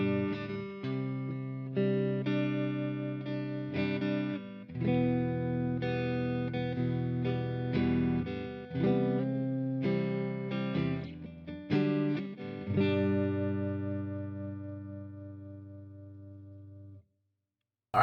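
A Muslady burl-top Telecaster kit electric guitar plays clean tones, strummed chords and single notes ringing out clearly, ending on a long sustained chord that fades away.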